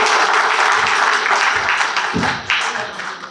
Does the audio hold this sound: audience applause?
yes